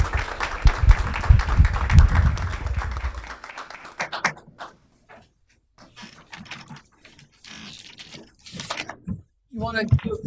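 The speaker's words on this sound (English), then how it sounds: "Yeah, one big round of applause, everybody." Loud applause from the audience at a city council meeting, dense and close for a few seconds before dying away into scattered claps, shuffling and people talking.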